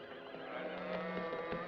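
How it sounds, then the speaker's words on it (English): Horses whinny and neigh close by in a 1967 Western setting, a short, fairly quiet burst of neighing with faint hoof and tack movement beneath. "Yono, you take care of the horses."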